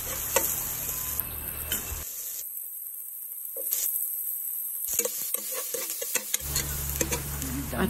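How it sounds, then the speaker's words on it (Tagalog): Garlic, onion and ginger sauté in a pan, a close, steady sizzle with occasional stirring clicks and scrapes. The sizzle cuts out for a few seconds midway, then returns. "ginisa ko na yung bawang, sibuyas, at pagkatapos ay lalagay ko din yung luya."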